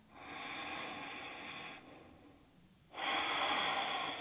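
Audible ujjayi-style yoga breathing close to the ear: a long, hissing inhale, a short quiet pause, then a louder, rushing exhale, with no speech.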